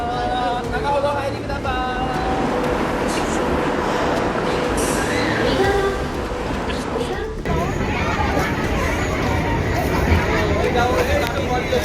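A work train rolls along the rails with a continuous loud rumble and metallic ringing tones, while a murmur of voices and speech runs underneath throughout.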